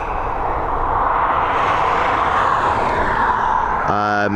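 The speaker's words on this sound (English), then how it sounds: "Bombardier Challenger Dublin to Luton, private owner" A Bombardier Challenger private jet roars at Dublin Airport, a loud, steady, broad engine rush swelling slightly, cut at the end by a brief electronic tone.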